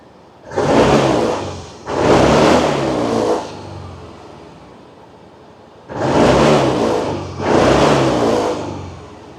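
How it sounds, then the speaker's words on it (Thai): A 2020 Yamaha Grand Filano Hybrid scooter engine is revved with two pairs of throttle twists, each burst rising and falling over a quiet idle, close and fairly loud. "ไม่ว่าเราจะบิด เติมคันเร่งหรือว่าปล่อยคันเร่งนะครับเขาก็จะขึ้นลงแบบนั้น"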